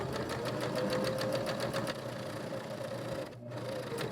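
A sewing machine stitches the front piece of a tie-dyed tote bag, its quick regular needle rhythm running close, easing slightly partway through and pausing briefly before resuming.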